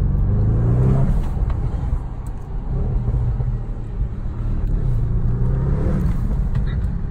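Audi RS car exhaust with the throttle lifted, a deep rumbling engine note dropping away with scattered pops and crackles, close and continuous, recorded from the road.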